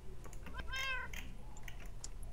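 In the Minecraft map Monster Mash, a single clear, nearby cat meow rings out over a steady, hissy background, with a few faint clicks afterward.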